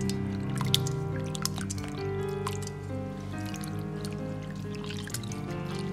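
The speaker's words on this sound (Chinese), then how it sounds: "切好放入盆中，用清水稍微清洗一下，去除一些血水和腥气味。" Pork pieces are rinsed by hand in clean water in a basin, with soft splashing, dripping and squishing sounds close by over a steady background hum.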